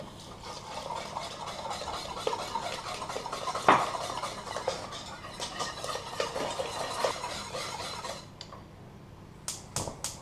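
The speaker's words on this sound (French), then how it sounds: "Je vais mélanger mon jus de citron." A utensil scrapes and clinks softly against a bowl while stirring lemon juice, in a steady rhythm, with one sharper knock and a few taps at the end.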